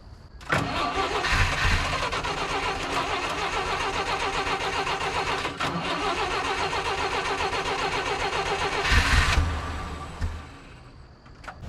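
Engine of a 1958 Lull cherry picker, long neglected and hard to keep running, starts up and runs with a loud, rough, steady note, surges briefly near the end, then drops away.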